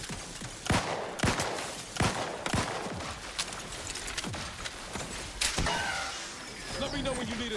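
Turret gunfire in the sci-fi video game Vertica: sharp, loud bursts of shots at an irregular rhythm over a busy background of mechanical game noise.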